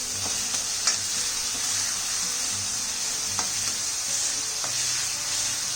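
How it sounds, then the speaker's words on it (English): Soy sauce and tomato ketchup stirred in a hot pan over high flame, a steady sizzle with occasional soft scraping knocks of the spoon, close and continuous with no voices. "I'm going to give all of this a mix."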